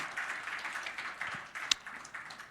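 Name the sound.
church congregation applauding a welcome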